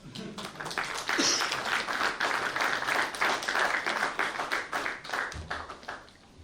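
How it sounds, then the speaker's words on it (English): Audience applause at a law and privacy summit in India, a sustained burst of dense clapping that swells quickly and holds steady for several seconds before tapering, with faint voices underneath. "we could have a huge round of applause"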